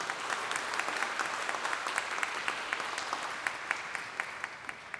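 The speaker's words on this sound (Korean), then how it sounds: "여러분 박수 부탁드립니다." Audience applause at a university vision proclamation ceremony, a steady wash of many hands clapping that carries on for several seconds at moderate level.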